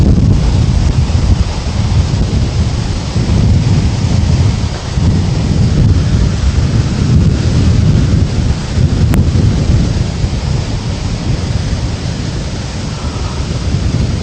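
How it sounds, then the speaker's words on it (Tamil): Strong wind buffets the microphone as floodwater rushes over the Athiyadi dam at Oluvil during heavy monsoon rain, a loud, unbroken roar of water and gusts with no voices. "இந்த இடத்தில் ஒரு பலத்த காற்றும் வீசிக்கொண்டிருக்கின்றது. ஆற்று நீர் பீறிட்டு ஓடிக்கொண்டிருக்கின்றது."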